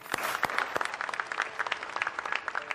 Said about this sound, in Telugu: కొట్టండి క్లాప్స్